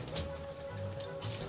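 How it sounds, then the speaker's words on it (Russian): Hot water runs from a tap in a hotel bathroom, a steady close spatter and splash of water hitting a surface for a couple of seconds. "Горячая. Есть горячая вода."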